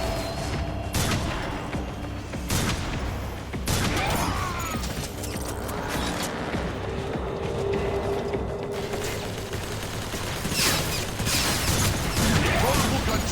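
Rapid metallic gunfire in the game Transformers: War for Cybertron, dense bursts mixed with mechanical clanks and ratcheting, loud and continuous throughout with game effects layered over it.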